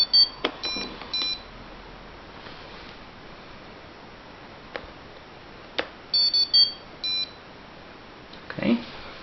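Short electronic beeps form a quick melodic sequence, then a single tone, repeated twice with quiet gaps and faint background voices.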